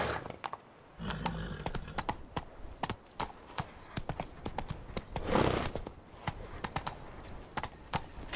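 Horse hooves clip-clop at a steady walking pace in The Witcher 3, with occasional jingling of tack and no talk.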